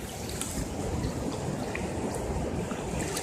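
Pacific Ocean waves, a steady broad wash of surf and swirling water, moderately quiet and continuous with small splashes, no voices.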